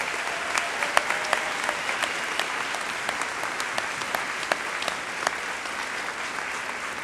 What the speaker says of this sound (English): Please give them a round of applause thanking them.